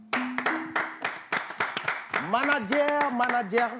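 Scattered hand claps from an audience at an event in Togo, quick and fairly close, giving way to voices and a tonal cheer or vocal sound toward the end.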